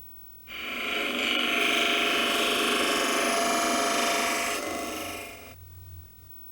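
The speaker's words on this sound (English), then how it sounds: "Cut off both corners with the saw and shave them round with the grinder" A grinder shaves the sawn-off corners of a wooden part round while building a manual rotary weeder for paddy fields. It makes one steady, loud, close whine that lasts about five seconds before cutting off.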